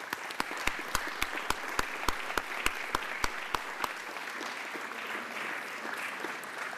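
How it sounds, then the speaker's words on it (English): A round of applause at a congressional committee markup hearing on food safety: a steady, moderate patter of many hands clapping in a large room, gradually thinning out and fading as it ends. "I'd like to ask the members to join with me in giving him a round of applause."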